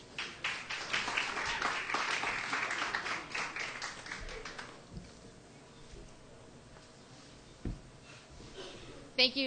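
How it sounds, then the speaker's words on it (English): An audience applauds a female Army staff sergeant as she is welcomed to the stage at an Irish music awards ceremony, with dense clapping for about five seconds, then tapering to scattered claps and quiet room noise. "Would you give her a nice round of applause, please?"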